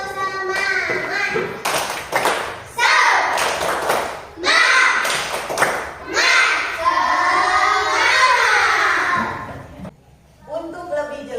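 Schoolchildren perform a rhythmic 'tepuk semangat' clapping chant in a classroom, with bursts of claps and taps mixed with loud shouted voices in steady patterns, followed by a brief pause and a short resumption.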